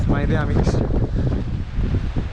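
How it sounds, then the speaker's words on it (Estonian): Strong wind buffets a campsite tent, a steady, dense roar of gusting noise throughout while someone talks close by over it. "Sihuke korralik tuul"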